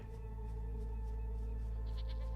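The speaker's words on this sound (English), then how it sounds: "I hear a goat." A goat bleats in the video game Svarog's Dream, a short nasal call over a steady droning backdrop of game sound with held tones, fairly quiet and without speech.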